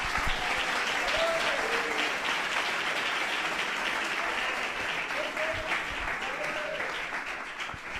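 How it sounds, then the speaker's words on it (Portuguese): A church congregation claps steadily through an evangelistic sermon, a dense wash of applause lasting the whole stretch, with faint voices rising briefly within it. "Palmas para Jesus, bem animado."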